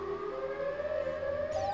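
Siren Head, a monster, lets out a steady, rising mechanical siren wail, loud and sustained without a break.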